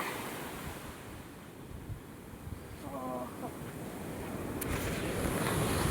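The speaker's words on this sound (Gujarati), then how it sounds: "ઓ એટલા મોટી વેળ આવે" A continuous roar of sea waves breaking on a beach at Madhavpur, with wind rumbling against the microphone, building slightly louder toward the end.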